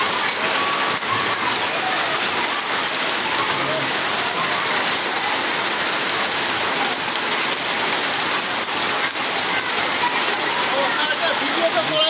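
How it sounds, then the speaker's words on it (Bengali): Heavy monsoon rain pours down over an open field where water has pooled. The hiss is dense, constant and loud for the whole stretch, with no break. "প্রচুর বৃষ্টিপাত হইতেছে"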